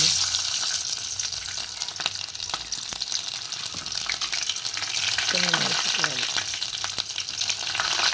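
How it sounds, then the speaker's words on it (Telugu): Garlic crackles and fries in hot oil as tempering for a Telugu dal, a dense steady sizzle with occasional clinks and a brief murmur of voice partway through. "ఇప్పుడైతే ఎల్లిపాయలు వేసుకుంటాను"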